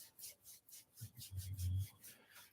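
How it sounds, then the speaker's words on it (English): Palms rubbed together vigorously at the close of a meditation practice, a soft quiet friction swishing in repeated strokes that swells toward the end, alone with no talking. "Bringing those hands up into prayer pose once again, rubbing them vigorously"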